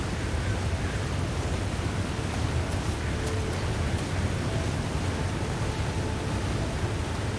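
A rushing mountain waterfall near a coastal highway, with logs and clumped snow around it, sends out a steady, dense roar that stays loud and unbroken throughout, with no voices.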